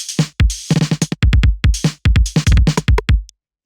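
Glitchy IDM-style drum loop run through a drum bus adding boom, crunch and drive, with a heavy kick: rapid, stuttering hits with sharp transients and deep low thump, loud and close, with brief gaps before it cuts off.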